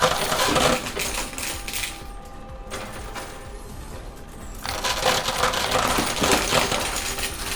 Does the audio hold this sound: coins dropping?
yes